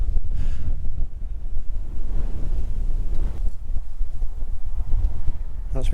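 Cold wind buffets the microphone at an outdoor stone circle site, a steady low roar with gusty swells throughout and faint voices now and then.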